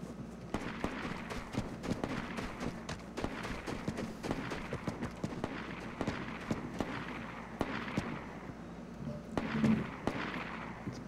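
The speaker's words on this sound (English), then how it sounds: "Bunch of fake gunshots." Fake gunshots ring out in the online shooter Vigor, a long run of sharp, fairly faint cracks and pops fired in irregular bursts over a low background rumble.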